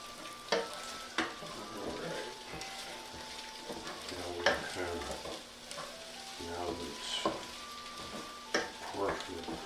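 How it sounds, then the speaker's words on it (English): Chicken fried rice stir-fried in a big skillet, with a steady sizzle broken by repeated scraping and tossing strokes of a utensil against the pan, close and fairly loud. "I also like a big skillet like this because I'm tossing stuff around in there."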